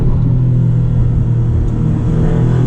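Maserati MC20 twin-turbo engine pulling hard in manual mode on broken pavement, a loud steady low rumble that holds close and constant throughout with no voices.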